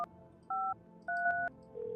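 Telephone keypad dialing tones in the video game No, I'm Not a Human: a few clean electronic beeps in short bursts, one held tone then two quick ones, followed by a lower steady tone, alone without talk.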